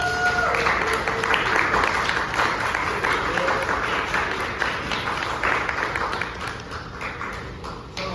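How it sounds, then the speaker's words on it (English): Audience applause and clapping at a stand-up comedy show, a sustained dense roar of hands that fills the room and slowly tapers toward the end. "Give yourself a round of applause"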